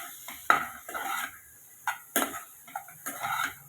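Mushroom curry gets stirred in a pan with a spoon, giving a series of close scraping and clinking strokes in uneven rhythm, with soft gaps of quiet between them.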